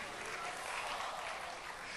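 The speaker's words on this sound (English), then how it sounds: "come on, give a big round of applause" Audience at a seminar giving a big round of applause, a dense even wash of many hands clapping at once, steady and sustained throughout.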